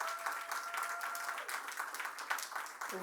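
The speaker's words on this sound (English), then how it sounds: "let's give our mayor a round of applause" Audience applause for the mayor at a Downtown DC Holiday Market press preview: steady, fairly quiet clapping from a crowd that continues throughout, with a faint tone audible early on.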